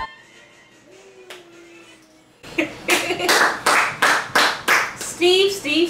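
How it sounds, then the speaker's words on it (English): Rhythmic hand clapping, about eight sharp, loud claps in a steady beat, starts after a quiet stretch with a faint tone, and a brief vocal sound comes near the end. "Baby, you clapping too."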